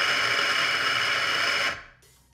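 Eureka Mignon Manuale coffee grinder grinding coffee beans, a steady loud whirring buzz that runs for under two seconds and then cuts off, leaving a faint hum.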